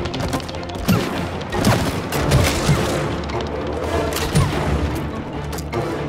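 Gunfire in the video game It Takes Two, a rapid string of booming shots and impacts over a steady, dense game soundscape, sustained and fairly loud.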